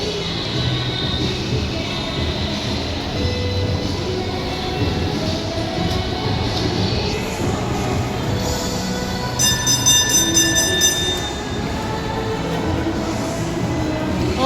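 Train rolling past nearby, a loud continuous rumble of rail cars with wheel squeal and a brief high ringing tone partway through, heard outdoors.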